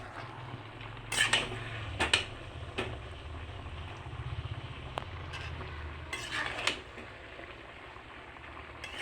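A metal lid clinks and scrapes a few times on a pot of mixed vegetables simmering for a Bengali pachan, with faint bubbling and stirring between the short, close clatters.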